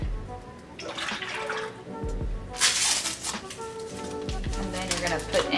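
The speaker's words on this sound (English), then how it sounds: "So in our mixing bowl, we're just gonna take our 4 cups of milk." Four cups of milk pour into a mixing bowl for an instant pudding dessert, a steady liquid splash building to a brief louder gush midway, with a voice and other kitchen sounds running beneath it.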